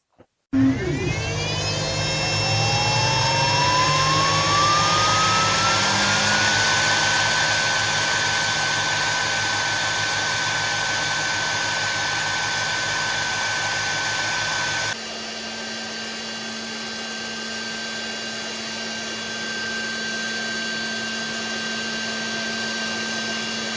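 A WeCreat Vision Pro 45W laser cutter cutting through 16 mm wood in one pass, its fan and air assist spinning up with a rising whine into a loud, steady whir that holds and then drops slightly in level, with no talking.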